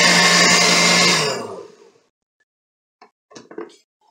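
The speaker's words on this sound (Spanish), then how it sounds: "licuamos" A kitchen blender whirs loudly, blending boiled chiles for Mexican red rice, then winds down and stops, followed by a few faint clinks and knocks.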